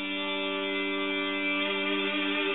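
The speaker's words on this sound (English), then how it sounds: "I'm going to let you hear this EBow track" An EBow guitar harmony track layered to emulate a keyboard plays sustained, smooth tones with steady even vibrato, continuous and loud with no attack, alone without voices.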